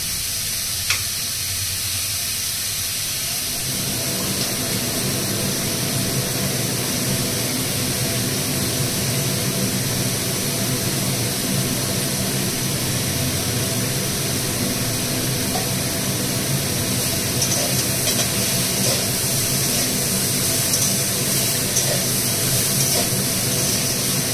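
A kitchen chimney exhaust fan switches on a few seconds in, adding a steady, full rushing drone under the ongoing close sizzle of frying in a home kitchen while cooking sukto; no talking.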